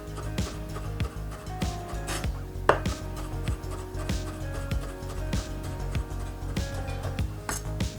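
A knife chops pre-cooked bacon on a board with a brisk run of crisp knocks, roughly two to three per second, close up, with light clinks of utensils in between.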